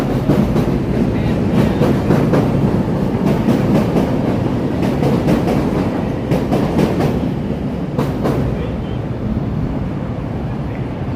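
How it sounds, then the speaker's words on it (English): A Chicago elevated Green Line train pulls into Clark and Lake station with a loud, continuous rumble and rhythmic clickety-clack of wheels over rail joints, plus some wind buffeting on the microphone. "Here comes the green line heading into the Clark and Lake station here."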